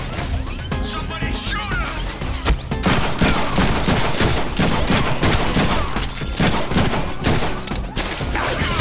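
Chaotic gunfire in the Deadpool video game, dense volleys of shots mixed with crashes, whacks and impacts, loud and continuous, with a character's voice speaking over the action.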